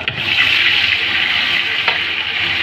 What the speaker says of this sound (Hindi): अब इसमें हम डालेंगे थोड़ी सी जिंजर गार्लिक का पेस्ट।